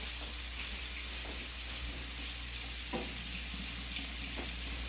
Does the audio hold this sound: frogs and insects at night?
no